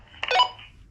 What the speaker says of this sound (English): You press the call button and that will simply send a ringing sound to the other radio